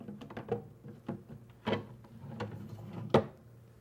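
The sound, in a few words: wooden drawer being installed in overlay cabinet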